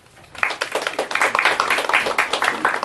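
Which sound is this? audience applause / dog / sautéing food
audience applause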